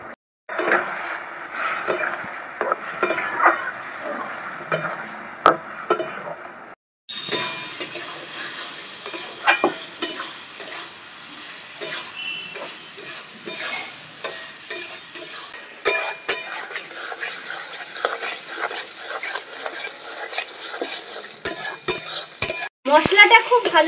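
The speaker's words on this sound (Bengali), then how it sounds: "মশলাটা খুব ভালো করে কষিয়ে নিয়েছি।" Ground spices with cumin and ginger powder being fried and stirred in a pan for a Bengali fish and vegetable curry, with steady sizzling, scraping spoon strokes and occasional clinks of utensil against the pan, close and continuous.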